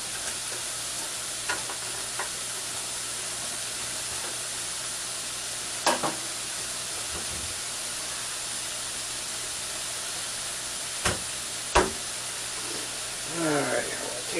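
A spatula stirring onions frying in a pan, a steady close sizzle and hiss with occasional scrapes and knocks of the utensil against the pan.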